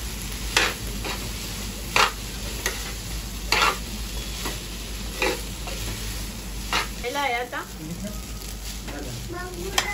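Noodles are stirred and tossed in a hot pan, a continuous sizzling hiss punctuated by regular clicks and scrapes of the spatula against the metal over about ten seconds.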